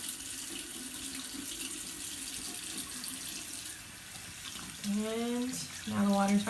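Tap water runs steadily into a bathroom sink during a nighttime face-washing routine, a continuous broadband hiss that persists throughout, with brief tonal sounds near the end.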